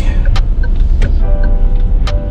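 City road traffic merging on a street, with a steady low rumble of car engines close by and several short sharp bursts, likely horns or passing vehicles, punctuating it.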